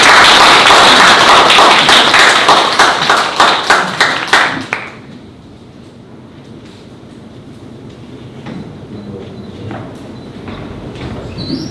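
Applause welcoming a lecturer, Professor Emeritus Choi Jeong-gi, to a Korean commemorative lecture on the 45th anniversary of the 5·18 Democratic Movement, with dense rhythmic clapping for about five seconds that tapers off into quiet room murmur.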